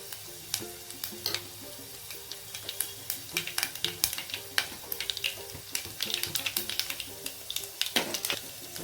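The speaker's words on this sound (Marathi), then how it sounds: "लसणाची फोडणी छानपैकी होण्यासाठी त्याला सोनेरी रंग येईपर्यंत आपल्याला तळून घ्यायचा आहे" Garlic frying in hot oil, a steady sizzle broken by dense crackling pops that grow busier over time, close up with no talking.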